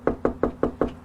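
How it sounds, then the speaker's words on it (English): Five even knocks land on a house door at a steady pace, crisp and close, with no voices. "We knocked on his door in Hiawassee."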